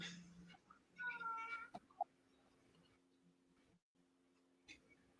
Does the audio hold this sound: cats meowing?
yes